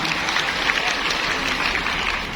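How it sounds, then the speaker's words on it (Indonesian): Applause from a church gathering after a testimony, a dense, steady clapping from many hands throughout the short clip. "tepuk tangan untuk Ino"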